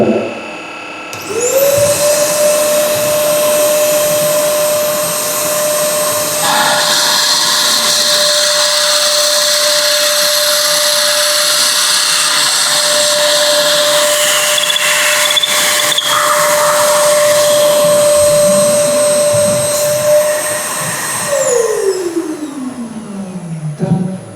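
A power drill whines steadily at high pitch for about twenty seconds, loud and close, then spins down at the end.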